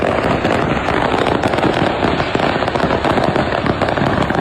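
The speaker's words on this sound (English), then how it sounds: "he was hauling a trailer full of fireworks and it caught fire" A trailer loaded with fireworks burns and sets them off, giving a dense, continuous barrage of loud crackling pops and bangs that keeps going without pause.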